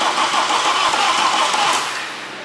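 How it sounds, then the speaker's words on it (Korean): A BMW 520d F10 diesel engine cranks and fires after an engine mount replacement and engine refit, a loud steady mechanical roar with no talk that eases off slightly toward the end. "자, 이제 시동 걸어야 될 타이밍이에요."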